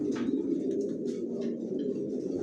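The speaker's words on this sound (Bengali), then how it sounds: "আমার লফটে সব লংয়ের কবুতর পালি।" Racing pigeons in a loft coo steadily and close by, a low, continuous throaty murmur with a few brief higher calls over it, and no one speaking.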